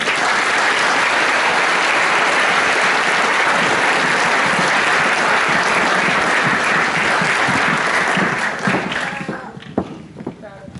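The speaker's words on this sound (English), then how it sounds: "Round of applause, please" Sustained loud applause from a Year 13 graduation audience, a thick wash of clapping for about nine seconds before thinning into scattered claps and murmuring voices.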